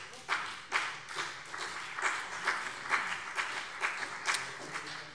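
Scattered rhythmic clapping from members during a plenary session of the Hessian state parliament, a moderate-sized group applauding with distinct claps pulsing throughout, no speech over it.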